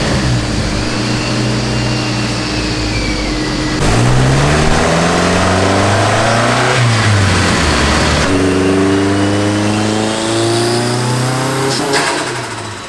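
A turbocharged NB Mazda Miata engine revs hard on a dyno, its loud, close pitch climbing through repeated sweeps as boost builds, with brief drops between rising pulls and no talk over it.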